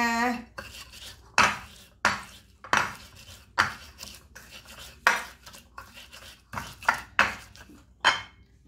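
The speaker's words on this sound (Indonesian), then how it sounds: "kita ulek lagi gulanya" Sugar being pounded and ground in a stone mortar with a pestle (ulekan) while making homemade ketoprak: about a dozen sharp, evenly spaced knocks, each followed by a short scraping grind, close and fairly loud with no talking.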